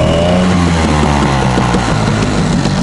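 A boat outboard motor runs loud and close at a steady idle-to-mid pitch, its engine tone continuous and droning with a slight rise early on, no voices over it.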